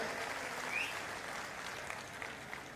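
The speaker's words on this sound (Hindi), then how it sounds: "मैं चाहता हूं एक बार जोरदार ताली उनके लिए बजाएं।" An audience at a political speech event applauds, a soft, steady wash of clapping heard from a distance that slowly thins out, with no talking.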